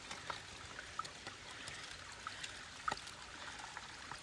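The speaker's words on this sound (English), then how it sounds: "Here's this little spring, and I think I can maybe fit this down in that little hole. Get some water that way." Water from a small spring in the Citico Wilderness of Tennessee trickles and dribbles into a water bottle, a faint, steady wash with a few tiny drips, heard alone and quietly outdoors.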